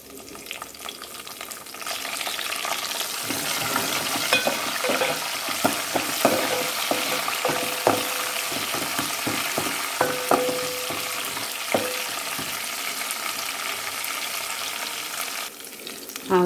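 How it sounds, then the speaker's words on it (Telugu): Mustard seeds, cumin and dried red chillies frying in oil for an amaranth-leaf stir-fry, a steady close crackling sizzle with occasional sharp pops and spoon scrapes throughout, fairly loud and unbroken. "ఆవాలు, జీలకర్ర, ఎండుమిర్చి బాగా వేగాయి కదా."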